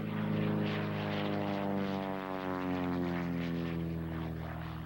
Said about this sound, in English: John Milberg is flying a Pitts Special, the airplane that's called the Rolls-Royce of aerobatic airplanes.